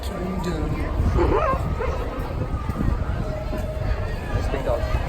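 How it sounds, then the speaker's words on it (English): Dog barks and yips ring out amid a busy theme park crowd, several barks and whimpers scattered over a constant babble of voices, with people talking nearby. "Nice big dog. Very big dog."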